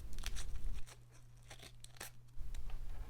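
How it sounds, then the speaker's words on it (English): Scissors cut a strip of tape to width during a wing repair on a Star Wars Vintage Collection TIE Fighter toy, giving close, crisp snipping and crinkling bursts with short pauses and no talking. "Using the scissors, cut its width to size"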